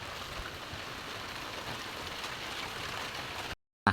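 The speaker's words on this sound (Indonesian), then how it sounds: "hujan posisinya" Rain falls steadily on a farm field of mulched beds, a dense even hiss that holds at a moderate level throughout and stops abruptly near the end; no voices.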